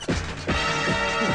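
Bicycle with no brakes crashing into a car, a sudden loud smash followed by a few rattling metallic knocks, heard alone with no talk.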